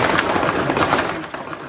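Rapid gunfire from a high-power rifle during an active shooter attack near police headquarters in downtown Dallas, a dense run of sharp cracks and bursts heard at a distance with clamorous background noise.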